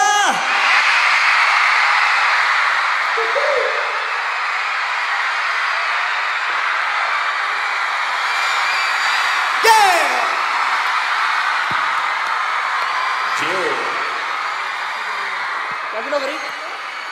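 A packed crowd at a live concert in the Metropolitan venue roars and cheers continuously, with whoops and shouts rising at moments while someone speaks over the noise from the stage.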